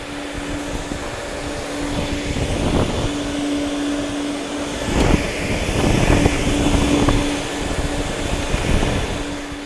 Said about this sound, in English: Fired up the vacuum.